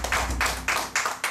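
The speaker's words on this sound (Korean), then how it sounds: "하나님께 우리 박수 한번 쳐주십니다" A church congregation clapping together in a steady, rhythmic beat, several loud claps in quick succession, filling the room with no talking.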